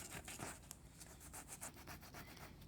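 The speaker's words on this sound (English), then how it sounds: "I get a bit of sandpaper and I sand the whole area, rough it up" Sandpaper rubbed back and forth over a rubber Razor E200 scooter tyre around a puncture, quick repeated scratchy strokes, close and quiet, with no talking.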